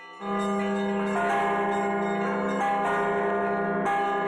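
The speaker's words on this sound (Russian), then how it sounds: "Звучание главного церковного ударного инструмента проверили здесь же" Newly installed church bells in a church under construction in Khakassia, Siberia, ring loudly and close, with repeated strikes layering into a sustained, resonant metallic peal.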